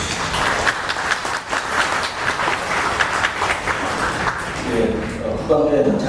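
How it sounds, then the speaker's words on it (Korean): Audience applause at a Korean naval shipboard defence forum, welcoming a professor to the podium: a steady wash of clapping that holds for several seconds, with a voice coming in near the end. "박수로 맞이해주십시오."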